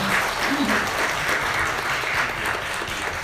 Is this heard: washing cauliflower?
no